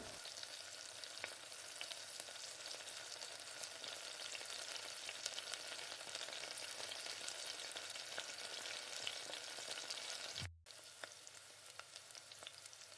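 Cumin, fennel, two dried red chilies, curry leaves and a pinch of asafoetida crackle in hot oil, a steady dense sizzle heard up close that breaks off for a moment near the end and then resumes.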